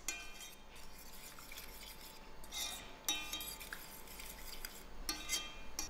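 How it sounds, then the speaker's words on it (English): A spoon stirs cornstarch into a lemon custard mixture in a bowl, with light repeated scraping and clinking of utensil against the dish, fairly close and steady with no talking. "I'm going to add in my cornstarch and give it a nice mix."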